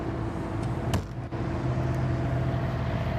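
An 8,000 watt quiet diesel Onan generator on an RV hums with a low, steady engine drone throughout, with a short clunk or knock in the middle and no talking.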